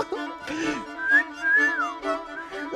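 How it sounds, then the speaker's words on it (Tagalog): A person whistles a rising and falling tune over game background music, with short melodic phrases repeated across the moment while playing a hide-and-seek video game. "pumipito na ako"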